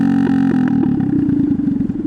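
A Honda Grom clone motorcycle with a broken, detached exhaust runs loud and close, a rough, throbbing idle with a few sharp revs and rattly clatter throughout.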